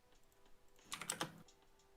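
A loud computer keyboard clatters in a quick burst of typing, close and crisp, then stops, with no one talking.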